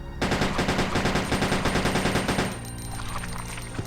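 Rapid sustained automatic gunfire from the video game Resident Evil Code Veronica X, a loud dense burst of shots for about two seconds before trailing off into game ambience with a final sharp report.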